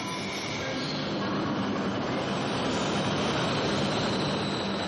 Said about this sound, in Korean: 기차는 밤새도록 달린다